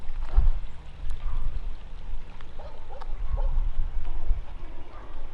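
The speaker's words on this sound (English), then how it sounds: "Could hear dogs barking already." Dogs bark at a distance around a rural ghost town from the 1830s in America, giving sporadic woofs over wind and outdoor rumble, with some faint handling noise nearby.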